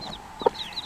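A hen clucks softly among baby chicks, making one brief close cluck and faint higher peeps, with no talking.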